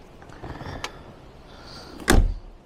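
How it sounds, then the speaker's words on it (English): A single solid classic car door thunks shut nearby, preceded by faint clicks and handling sounds, then quiet. "all the doors and everything, they just shut really nicely."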